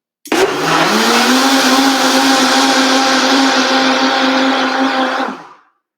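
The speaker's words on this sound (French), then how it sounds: "Je le mélange au mélangeur parce que ça défait l'aspect poudreux." A kitchen blender runs steadily for about five seconds, whirring loudly as it mixes a powdered protein shake, starting abruptly and cutting off at the end with a brief spin-down.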